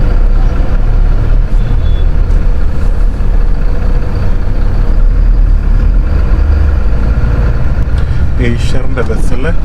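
An Eicher bus rumbles past on a crowded highway near a bus stand, its deep engine drone loud and close throughout amid heavy traffic, with voices and tonal sounds rising briefly near the end.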